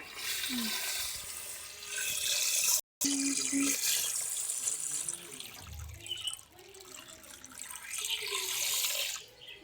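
A running tap pours water into a fish tank, a steady nearby gush that cuts out briefly and then resumes, its flow shifting slightly toward the end.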